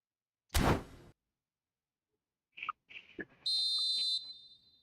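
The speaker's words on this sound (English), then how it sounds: "And there is the half-time whistle." A referee's half-time whistle in the football video game eFootball 2025 Mobile sounds as one sustained, shrill blast after a burst of crowd noise and a few short clicks, with no talk over it.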